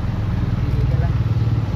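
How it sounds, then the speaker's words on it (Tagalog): Motorcycle engines rumble and idle in street traffic near a shopping mall. The low, steady drone is close and continuous, and someone talks over it. "Ang daming motor mga idol."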